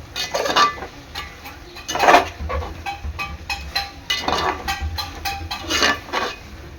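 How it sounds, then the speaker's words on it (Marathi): Fried tuna fish stirred into gravy in a pot for biryani comes through as repeated scraping and clinking of a spoon on metal, in uneven bursts with a louder scrape early on. "यामध्ये टाकणार आहे मी आपले तळलेले फिश चांगलं मिक्स करून घ्यायचं आहे"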